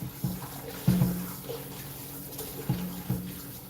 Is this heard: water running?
yes